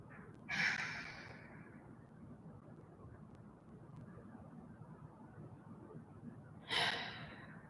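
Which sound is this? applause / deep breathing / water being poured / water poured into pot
deep breathing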